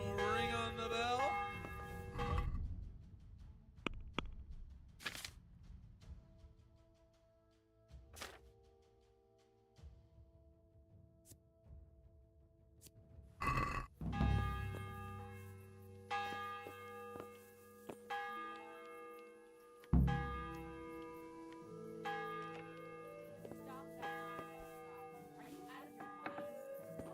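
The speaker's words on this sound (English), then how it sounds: "wouldn't you like to have a little ring on the bell?" A bell rings in the medieval game Kingdom Come: Deliverance, struck a few times at separate moments, each strike blooming into a long, shimmering decay over quiet background sounds.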